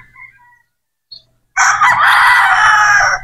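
A straight-comb Boston Roundhead rooster crows once, loud and close, after a few faint clucks and a brief chirp in the quiet beforehand.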